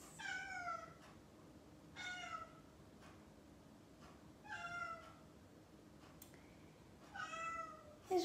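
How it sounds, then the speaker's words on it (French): A cat meows at a door, four or five separate, faint mewing calls spaced a couple of seconds apart in a quiet room. "Je vais ouvrir à mon chat et je reviens."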